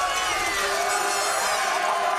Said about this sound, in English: Crowd getting into it as Laval opens on 1st and 10